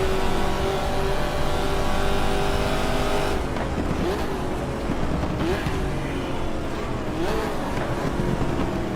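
Race car engine in the GT Legends racing game, a loud continuous drone that drops and climbs in pitch through several quick gear changes, with a faint squeal of tires.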